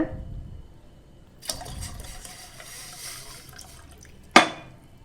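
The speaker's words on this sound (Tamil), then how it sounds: "நான் இன்றைக்கி 2 டம்ளர் அளவு தண்ணி சேர்த்துக்கிறேன், பெரிய டம்ளரில்." Water pours into a pot from a large tumbler with a soft splashing rush, followed by a brief sharp clink near the end, while making kashayam.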